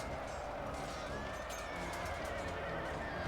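Cavalry horses in a Last Alliance Total War battle whinny amid constant battle din, a rising neigh standing out faintly over the steady roar of clashing armies.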